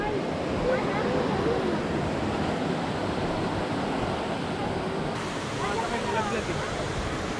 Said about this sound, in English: may waterfalls daw siya